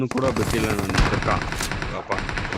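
Rapid bursts of gunfire in the video game PUBG crackle in dense, overlapping volleys, loud and close, while players talk over the shooting.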